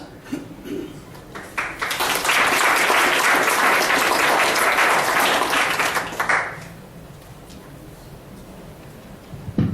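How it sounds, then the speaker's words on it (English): An audience applauds as a speaker walks up to present, a full crowd's clapping swelling in, holding loud and steady for about four seconds, then fading out into quiet room noise. "I like how all I did was walk and I got applause"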